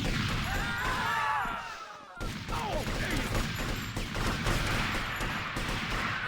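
Chaotic GTA Vice City street action with gunshots and crashing impacts, loud and busy, followed by continued clattering bursts under game noise.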